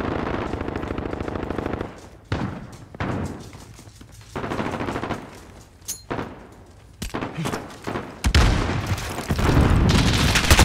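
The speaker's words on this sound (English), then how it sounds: "Grenade didn't kill that dude?" Amid a Call of Duty Modern Warfare firefight, a grenade bursts with a heavy boom among rattling automatic gunfire and scattered shots, the loud bursts coming in uneven clusters.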